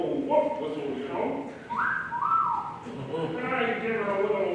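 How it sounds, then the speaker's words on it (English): A short rising-then-falling whistle sounds in the middle of stage dialogue, with voices talking before and after it. "So I gave her the old wolf whistle, you know."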